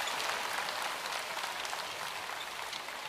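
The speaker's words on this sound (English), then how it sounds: "gets a nice round of applause" A basketball crowd applauds steadily and loudly at a Kentucky women's game against Buffalo, a dense, continuous wash of clapping filling the arena for about three seconds.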